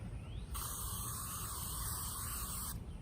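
Aerosol spray hissing steadily onto hands for about two seconds, a broad continuous bright hiss starting and stopping abruptly, close and moderately loud, set against a faint background murmur.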